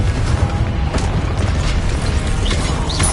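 Confringo blasting spells burst repeatedly in Hogwarts Legacy, a dense loud wash of booming impacts and crackling magical detonations with brief whooshing accents, continuous and chaotic.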